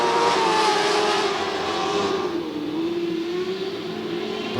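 Dwarf race cars howl around a short oval track, a steady loud engine drone from several cars at once that slowly sags in pitch as they work through the turns.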